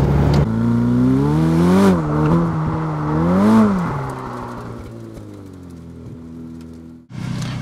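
Ferrari F8 Tributo drifting with wheel spin, its engine loud and close, pitch rising and falling through two revving surges before settling into a steady high drone, then cutting off abruptly near the end.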